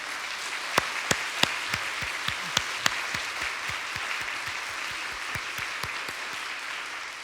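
Worshippers at a Sunday afternoon service at Seoul Pyeonggang Church clap together in a moderately loud, even round of applause, with a few sharper claps standing out along the way.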